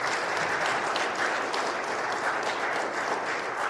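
A Korean church congregation applauds together during a Sunday worship service, a dense, steady wash of many hands clapping that holds evenly throughout.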